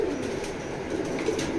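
Foster pigeons of a local breed cooing in soft, low repeated calls, fairly close, with faint background noise.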